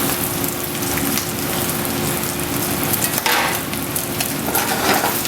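Bacon frying in a pan, a steady, loud, crackling sizzle of popping fat with no talking.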